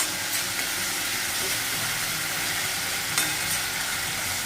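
Curry leaves and green chillies crackle and sizzle steadily in hot oil, a loud continuous hiss with small pops throughout, close up and with no talking, while a rustic ridge gourd thecha is being cooked.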